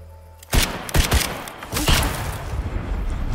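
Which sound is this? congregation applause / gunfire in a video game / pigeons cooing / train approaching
gunfire in a video game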